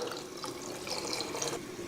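Water pours steadily into a pot of Chettinad-style rasam with salt and tamarind as it cooks, a continuous close splashing and trickling stream with no talk over it.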